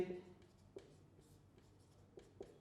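A question is written on a classroom board in short, faint scratching strokes with a few soft taps, close but quiet, while a voice speaks briefly at the start.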